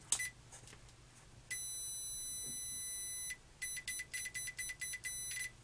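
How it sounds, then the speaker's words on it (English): Multimeter continuity beeps while cable connections on a CNC machine's electronics are checked: one long steady tone lasting about two seconds, then a rapid run of about eight short beeps, close and clear with no talking. "As a last sanity check, I'll buzz out with a multimeter the connections."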